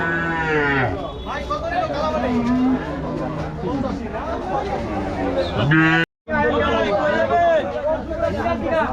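At a busy cattle market where cows are sold for Qurbani, several low, drawn-out moos rise from nearby animals amid constant crowd chatter and talking close by, with a short cut of silence partway through.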